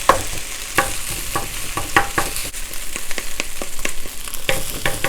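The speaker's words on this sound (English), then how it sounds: "So go ahead and continue mixing and breaking the rice so everything is nicely separated." A utensil scrapes and stirs ham kimchi fried rice in a hot pan, making quick repeated strokes and clacks over a steady sizzle. The sound is close and loud, and no one talks.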